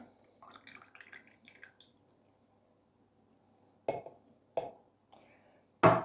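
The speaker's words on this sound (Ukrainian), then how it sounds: "Спочатку потрібно влити соняшникову олію. Ось я вливаю." Sunflower oil poured into a container for homemade mayonnaise: a faint trickling, gurgling pour up close, followed by a few sharp clinks of glass in a quiet kitchen.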